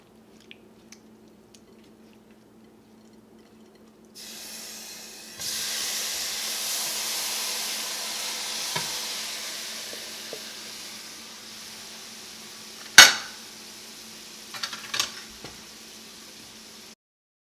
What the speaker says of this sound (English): I'm going to add some olive oil and then add the shrimp.